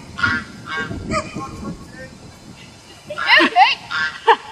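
Several geese honk repeatedly nearby, a burst of loud calls early and another cluster toward the end.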